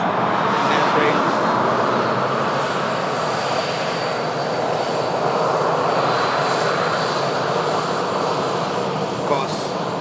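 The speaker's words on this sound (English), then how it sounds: "Beautiful Saudia 787 Dreamliner" A Saudia Boeing 787-10 Dreamliner jet roars steadily and loudly nearby, a broad continuous engine rumble that holds for the whole stretch with a faint voice underneath.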